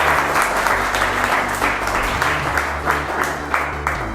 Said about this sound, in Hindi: ऑडियंस के लिए एक बार और जोरदार तालियां